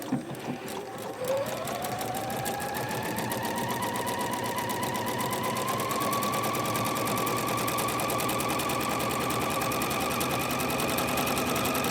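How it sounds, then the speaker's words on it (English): A sewing machine with a walking foot chain-stitches a pet rag quilt, a fast, even mechanical whir and needle clatter running continuously and close up, with no talking. "I'm going to set this up right here for you, and we're just going to stitch away"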